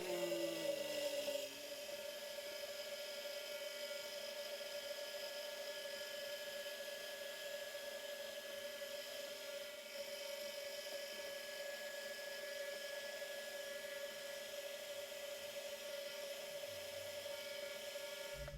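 A drill runs steadily while boring holes for M4 and M12 threads in a Hemingway die holder, a sustained high-pitched whine that carries on almost unchanged after a short louder start, with no talking.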